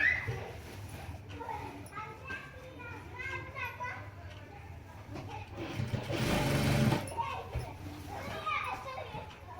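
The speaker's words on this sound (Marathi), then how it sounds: "बघा आता कडन एकदम शिलाई मारून घेते मी" Sewing machine stitching the hem edge of a ghagra skirt made from an old silk-bordered saree, a continuous whirring run beneath children's chatter and nearby talking.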